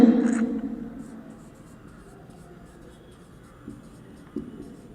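Chalk or marker strokes on a board during a class 10 chemistry lesson, a few faint scratches and taps after a brief burst of a teacher's voice at the start.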